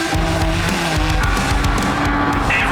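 Off-road race vehicles at the Finke Desert Race rumble and rev loudly nearby, the engine notes rising and shifting continuously with no talking.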